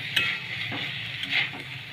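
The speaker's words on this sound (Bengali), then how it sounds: "কিছুক্ষণ এইভাবে কষিয়ে নিলাম" Soybean and egg curry with spices, tomato and capsicum sizzles steadily in a pan while a utensil stirs it, with a few soft scraping and clinking touches against the metal.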